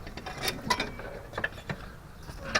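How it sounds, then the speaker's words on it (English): A ratchet socket wrench on a 16 mm rear motor mount bolt of a Jeep Compass makes a series of quick, close metallic clicks and ticks in uneven bursts, with no talk. "you just put a long socket in here, and it's 16 millimeter, and it actually comes out pretty easy"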